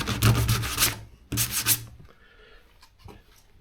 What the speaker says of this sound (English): Just scuff it up a bit so that it's not shiny.